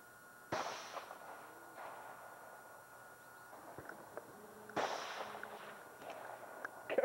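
Two distant gunshots, one early and one a few seconds later, each a sharp crack with a short echo over quiet outdoor background during a summer outing in Maine.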